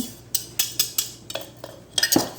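Flour, baking soda and salt being mixed into cherry chocolate chip cookie dough, a run of sharp rhythmic clinks and scrapes of a utensil against a bowl, close and repeating roughly every quarter second.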